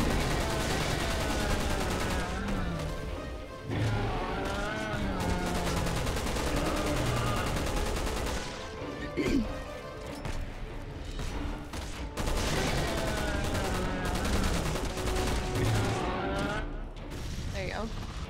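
Gunfire in Resident Evil 6 during a co-op Chris campaign session with a sniper rifle, shots cracking repeatedly through a busy battle mix of other weapons and effects, with a person talking over parts of it.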